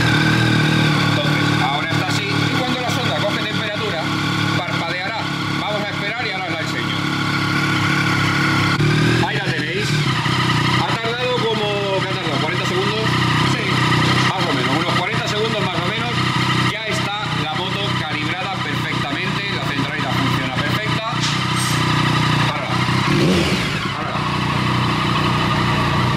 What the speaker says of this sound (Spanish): tienes que arrancar la moto